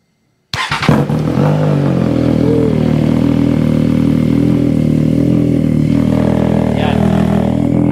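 Triumph Trident 660 inline-three motorcycle engine with a Termignoni exhaust, starting up and then idling with a steady, loud, throaty rumble and a brief blip, close by and continuous with no talk.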